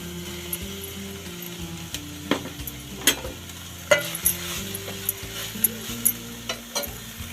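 Grated coconut being stirred into a frying pan, with a low sizzle and repeated scraping strokes of a spoon against the pan, plus a few sharp clinks, close and steady with no voices.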